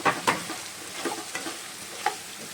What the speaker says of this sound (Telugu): ఇప్పుడు మనం కట్ చేసి పెట్టుకున్న ఆలుగడ్డ ముక్కలు కూడా అన్నీ వేసేసుకొని ఒకసారి మొత్తం కలుపుకోవాలి